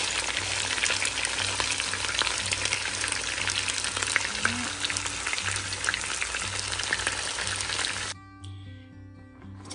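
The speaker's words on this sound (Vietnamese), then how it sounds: "gà chúng ta đang chiên ở trên chảo" Chicken wings frying in oil in a pan, a loud, steady, close crackling sizzle that runs almost unbroken before dropping off sharply near the end.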